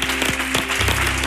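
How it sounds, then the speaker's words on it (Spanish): Theatre audience applause for actors from a Cádiz actors' association, a short dense burst of clapping with a low hum beneath, close and steady. "Aplaudan, por favor."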